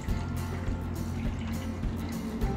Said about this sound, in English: put in some water.